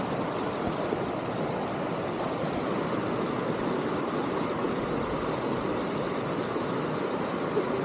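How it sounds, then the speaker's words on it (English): A very full river rushing on a hike up Mount Tecumseh in New Hampshire, a steady, broad roar of water that is unbroken and even throughout, with no voices. "it is a very full river"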